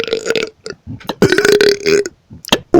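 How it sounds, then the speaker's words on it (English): Several loud, long burps from a man in quick succession, separated by short gaps, close to the mic and raspy with strong voiced tone. "what do you think about all these burps?"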